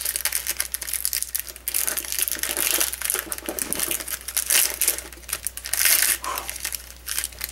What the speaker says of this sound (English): seeing as I have the blade out, I might as well use it. As minimal damage to the cards as possible.